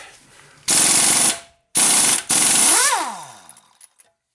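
An impact wrench with a 21 mm socket rattles on the strut nuts of a Nissan Rogue in three loud bursts, the last one winding down with a falling whine.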